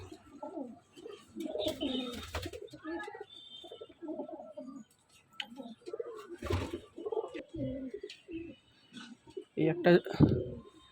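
Soft pigeon cooing repeats under someone talking steadily nearby, with a few brief wing flutters and louder bursts near the end.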